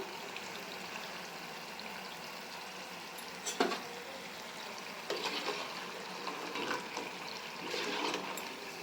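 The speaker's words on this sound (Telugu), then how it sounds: "ఇవైతే మంచి కలర్ వచ్చేంత వరకు అయితే డీప్ ఫ్రై చేసుకుందాము" Chitti chekkalu, small rice-flour snacks, deep frying in hot oil, giving a steady soft sizzle and bubbling with a few brief clinks of utensils, close and alone with no talk.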